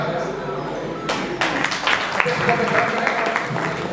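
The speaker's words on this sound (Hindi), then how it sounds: "जोरदार तालियों के साथ अनुरोध करता हूँ" An audience claps at an Engineers Day celebration. The applause starts after a brief murmur, swells into dense, steady clapping from many hands and carries on at a moderate level to the end.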